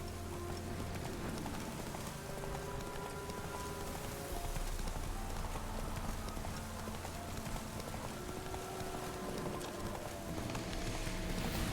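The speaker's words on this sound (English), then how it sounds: "Run, Roach." Roach, the horse in The Witcher 3, gallops with a steady, fast clatter of hooves that runs throughout, set against a continuous bed of game ambience and tonal music.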